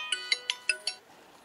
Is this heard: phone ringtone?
yes